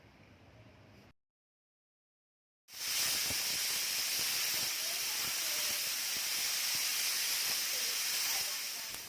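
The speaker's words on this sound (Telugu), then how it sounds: "కుక్కర్ మూత పెట్టి 3 విజిల్స్ వచ్చే వరకు ఉడికించుకోండి" A pressure cooker cooking moong dal vents steam after three whistles. After a brief quiet gap comes a loud, steady, close hiss that runs on without a break.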